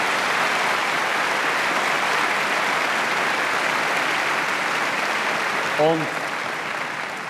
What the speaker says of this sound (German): wenn ich Ihren Applaus richtig deute